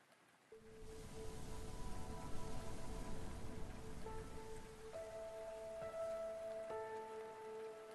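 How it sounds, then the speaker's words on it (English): Steady rain hisses softly beneath faint, sustained musical tones that enter and shift. The ambience is quiet and continuous, with no speech. "The rain caresses her palms."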